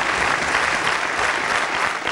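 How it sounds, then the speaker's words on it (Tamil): A studio audience on a Tamil television show breaks into a big round of applause, a loud, dense, continuous clapping from many people throughout, with no speech heard. "ஒரு பெரிய கைத்தட்டல்கள் சார் கொடுத்தலாம் நம்ம."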